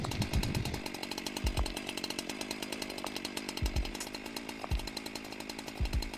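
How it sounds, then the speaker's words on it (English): Enemy's chainsaw in a video game, a continuous buzzing motor drone held steady for several seconds, with sharp low thumps recurring over it. "she's got a chainsaw!"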